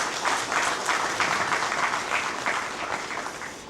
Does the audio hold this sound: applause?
yes